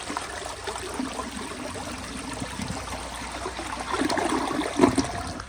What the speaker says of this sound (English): But here's another flush.